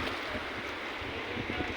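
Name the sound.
sea waves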